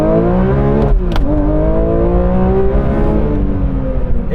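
A Porsche 911 ST launching hard from a standstill, its engine roaring loud and close as revs climb, a brief drop at each gear change, then the rising note resumes and keeps pulling.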